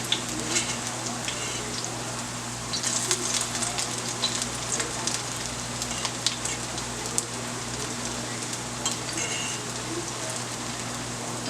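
Bajan fish cakes dropped into hot oil in a pan fry with a steady, crackling sizzle that runs evenly throughout, close and fairly loud, with sharp pops scattered over the hiss.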